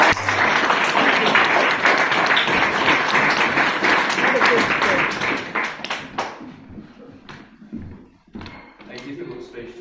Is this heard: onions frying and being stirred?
no